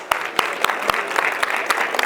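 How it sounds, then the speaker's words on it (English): Applause from an audience responding to a speaker's prompt, with regular sharp claps standing out above a steady wash of clapping through the whole stretch. "give yourself a round of applause"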